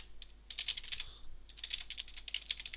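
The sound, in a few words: typing a command on a computer keyboard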